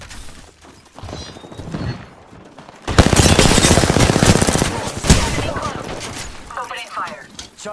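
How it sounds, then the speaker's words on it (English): Rapid automatic gunfire in the Apex Legends battle royale shooter erupts after a quieter stretch of game sounds, with loud, dense bursts continuing for several seconds before easing off. "Opening fire."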